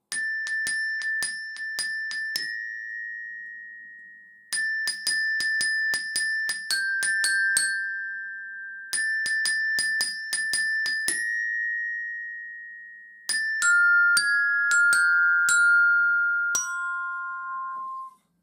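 A bell lyre plays the second phrase of a tune, bright metallic struck notes ringing in quick runs, heard as several separate bursts with short pauses, the last notes sustaining and fading, up close and with no voices.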